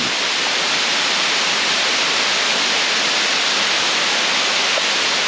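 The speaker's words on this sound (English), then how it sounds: "look at the falls" A waterfall pours steadily in the rain, a loud, unbroken broadband rush of falling water close by, with no other sounds breaking through.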